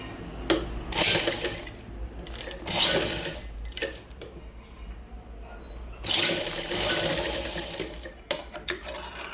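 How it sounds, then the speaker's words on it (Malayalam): A sewing machine stitches the rounded edge of a half-collar top in several short runs, each a close, rapid whirring burst separated by pauses and small clicks, with no speech. "ഈ ഭാഗം ഒന്ന് റൗണ്ടായിട്ട് ഒന്ന് സ്റ്റിച്ച് ചെയ്ത് കൊടുക്കുക"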